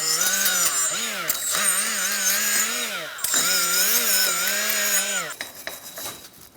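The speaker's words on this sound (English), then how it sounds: "Use a wire brush to get in that area." A wire brush cleans the wheel hub area of a 2010-2013 Kia Soul with a loud, close, wavering whine and grinding that pauses briefly twice, then trails off into scraping.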